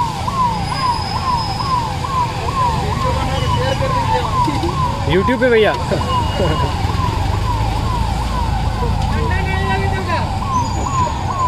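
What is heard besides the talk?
fire engine siren arriving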